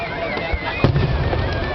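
Festival fireworks at the 2009 Toyohashi Gion festival in Japan, with one deep, close boom standing out over a steady outdoor din while a voice carries faintly in the background.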